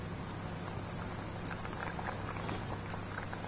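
Banana-flower fritters drop into a pot of simmering vegetarian curry, giving a steady soft bubbling and light patter, with a couple of faint splashes as they go in.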